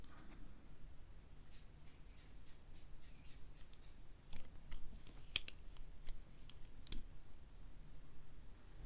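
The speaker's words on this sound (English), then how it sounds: "to use the bit driver, you just fold it in, and then you can use it" The bit driver of a Leatherman Skeletool CX Onyx multitool is folded, giving faint metallic clicks and small scraping handling noises close by, with a couple of sharper snaps in a quiet room.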